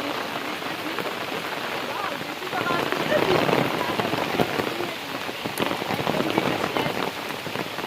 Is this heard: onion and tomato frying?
no